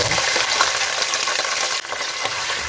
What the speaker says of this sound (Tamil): இப்போ இஞ்சி பூண்டு பேஸ்ட்டை பச்சை வாசம் போகிற வரைக்கும் நல்லா வதக்கி